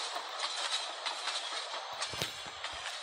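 Train in the video game Poppy Playtime, a faint rolling rumble with rhythmic clickety-clack of wheels, steady under a few sharper knocks near the end.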